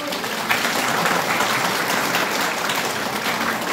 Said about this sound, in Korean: 먼저 오늘 도움 주신 정 변호사님과 유 사무관님 박수로